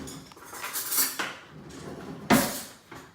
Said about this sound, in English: let me get a fork and knife here